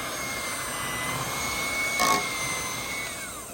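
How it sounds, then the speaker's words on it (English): A mixer or blender whirs steadily through zucchini bread batter ingredients, including vegetable oil, giving a continuous close motor hum with a brief louder surge in the middle. "Then it is time to blend all of these ingredients together."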